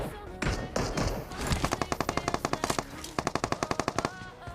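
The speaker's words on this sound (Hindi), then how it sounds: "तभी पीछे की तरफ से फिर से गन साउंड आती है यूएमपी के" UMP submachine gun fire in the BGMI mobile battle royale game, two rapid bursts of evenly spaced sharp shots at close range, the first longer and the second following after a brief pause.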